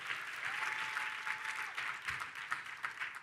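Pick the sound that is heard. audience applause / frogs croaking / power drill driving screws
audience applause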